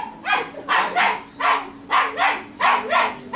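A small puppy barks in a quick series of about eight sharp, high yaps, close by and fairly loud, with brief gaps between bursts and no talking.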